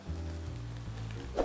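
Cooked basmati rice goes into a hot pan for fried rice, sizzling in a steady close crackle with a low hum beneath and a brief clatter at the end.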